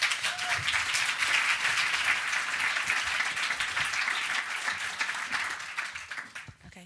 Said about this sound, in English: So if you'd like to give a warm round of applause to Andy Middleton.